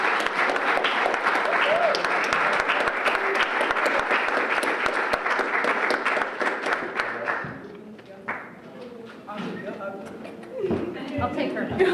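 Audience applause welcoming a graduate to the stage at the 2018 ACES graduation celebration of the University of Maryland Robert H. Smith School of Business: steady, dense clapping from a crowd that fades out, followed by scattered voices and shuffling.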